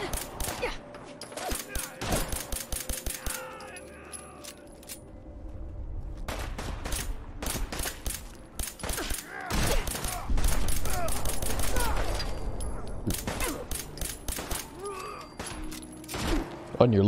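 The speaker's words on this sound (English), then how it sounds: "Yep, now they're shooting at you." Gunfire from enemies in the video game Fallout 4 comes as repeated bursts of sharp shots and rapid volleys, some loud and some more distant, spread over the whole stretch along with game ambience.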